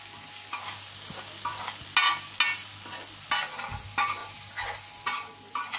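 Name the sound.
stirring spices into softened vegetables for pav bhaji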